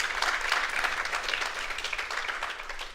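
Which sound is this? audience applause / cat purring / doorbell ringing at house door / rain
audience applause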